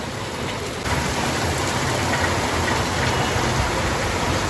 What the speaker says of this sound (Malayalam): നല്ല മഴ. ഇതുവരെ പെയ്യാത്ത മഴയപ്പം പെയ്തുകൊണ്ടിരിക്കുന്നത്.